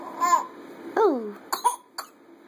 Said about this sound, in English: Why do you keep coughing?